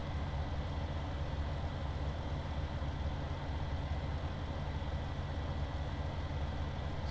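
A steady, low tractor engine idles and rumbles continuously in Farming Simulator 17, heard close and unchanging with no talk over it.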